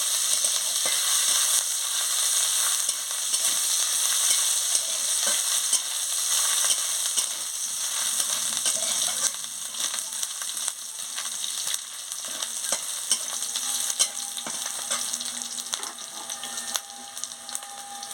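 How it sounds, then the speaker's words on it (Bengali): Ginger paste and green chilies sizzle steadily in hot oil in a pan, a continuous bright crackling hiss with occasional faint stirring scrapes, close and alone without talk. "আদা বাটা আর কাঁচা লঙ্কা দিয়ে দিচ্ছি। দিয়ে আদাটাকে ভালো করে ভেজে নিচ্ছি।"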